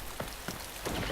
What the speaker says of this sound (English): And now we're getting rain out of clear blue skies